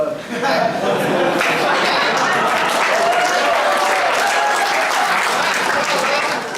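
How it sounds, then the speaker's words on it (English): Sustained audience applause at a campus musical performance, dense and loud throughout, with some cheering and chatter mixed into the crowd noise. "Another round of applause"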